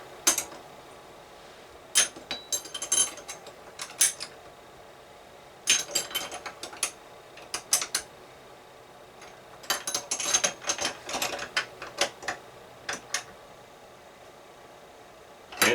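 A wrench tightens a part on a Lee Loadmaster reloading press, giving clustered bursts of ratcheting clicks and metal creaks, close up and separated by short pauses.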